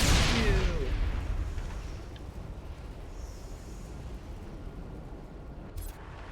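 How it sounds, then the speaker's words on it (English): A missile launches and explodes in the video game Mass Effect, a loud deep boom at the start that decays into a long rumbling tail, with a short sharp crack near the end. "Somebody fired a missile."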